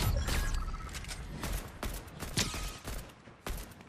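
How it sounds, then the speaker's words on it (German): Several sharp gunshots in the video game Fortnite, fairly close and loud, with irregular spacing between them. "Da vorne sind Schüsse"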